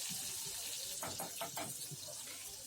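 Crushed garlic and green chilli fry in hot oil with a steady, quiet, hissing sizzle while a cook prepares a leafy vegetable dish. A brief stretch of voice sounds partway through.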